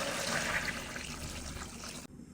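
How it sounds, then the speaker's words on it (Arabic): Water pours steadily into a pot of chicken pieces with spices, garlic and cardamom, a continuous close rushing splash lasting about two seconds before it stops abruptly. "هسه ننزل عليهم المي"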